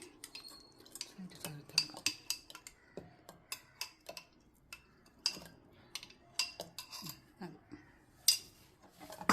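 Curd is stirred in a vessel with a metal spoon, giving a close series of irregular clinks and taps against the side, separated by quieter scraping, with no talking.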